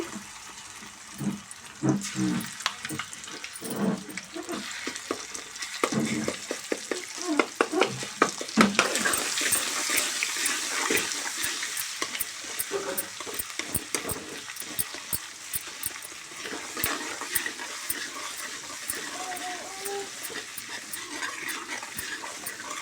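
Ginger garlic paste and cumin fry in a pan with a steady sizzle, broken up by frequent scraping stir strokes. The sound is close, with no talk, and grows busier and louder partway through.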